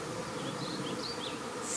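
Honeybee swarm buzzing as the bees march into a hive entrance in May, a steady, dense hum of many insects with no talk, close and continuous.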